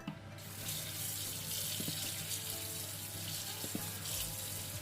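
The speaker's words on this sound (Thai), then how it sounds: "เราก็จะมาล้างปลาก่อนนะคะทำความสะอาดก่อนค่ะ" Gutted whole fish rinsed under a running kitchen tap before being made into Thai fermented fish, the water streaming steadily and fairly quietly with small splashes, no voices.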